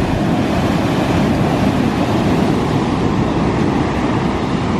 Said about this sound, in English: there's just something about sitting there watching these waves come in